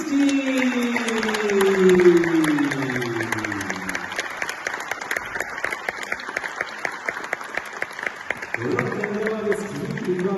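A festival audience breaks into sustained applause to welcome the winner of the second edition, dense clapping filling the hall after fading tones, with music starting back up near the end.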